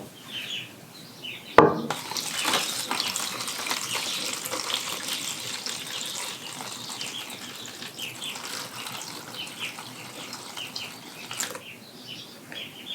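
Water solution poured into plastic seedling trays, starting with a sharp knock and then a steady splashing trickle that lasts for several seconds before a softer clatter, close by.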